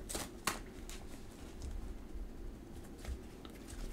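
A deck of Magic cards being shuffled up close, with a run of quick riffling patters and sharp card snaps, alone and fairly quiet.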